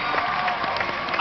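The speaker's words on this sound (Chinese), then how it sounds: "掌声有请顾导" A brief burst of studio-audience clapping greets director Gu Changwei as he walks onto a television talk show, steady, mid-level applause mixed with music.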